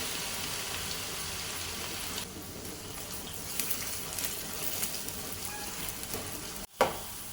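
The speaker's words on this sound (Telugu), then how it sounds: "సో మన ఆనియన్స్ కూడా వేసుకొని మంచిగా డీప్ ఫ్రై హై ఫ్లేమ్లో చేసుకోవాలి." Sliced onions deep fry in hot oil on a high flame, giving a dense, continuous hiss and crackle that holds for several seconds, followed by a brief knock near the end, with no voices.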